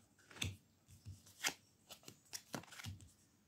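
Tarot cards are shuffled by hand in a series of quiet, close riffling and slapping bursts, roughly eight soft strikes at an uneven rhythm.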